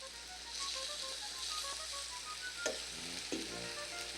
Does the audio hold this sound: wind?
no